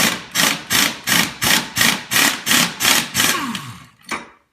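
A hammer strikes a Ford Mustang front strut in small jolts to free it: about ten evenly spaced, loud, close metallic blows, then a final weaker hit.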